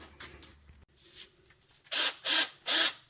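A power tool at slow speed scrubbing old silicone off the rear axle of a Nissan Frontier, heard as faint rubbing at first, then three loud, close, harsh abrasive bursts of about half a second each.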